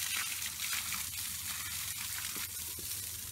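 Rusty tap water running, a soft steady hiss and trickle of flowing water with faint splashes, heard fairly quietly and close.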